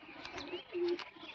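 A female pigeon gives a short, soft coo with a brief throaty tone near the middle, faint and close, over light background noise.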